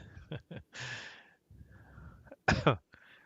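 Several harsh, close coughs in short bursts, with a throat-clearing rasp between them and quiet breathing in the gaps.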